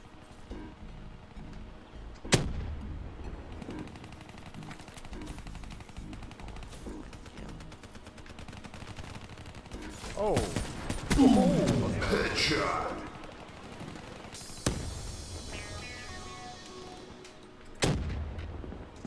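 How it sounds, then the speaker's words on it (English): Gunfire in the Call of Duty: Black Ops 3 multiplayer game, with sharp isolated shots and bursts spread across the clip, one heavy blast near the middle, under intermittent voices of players talking. "Stop shooting."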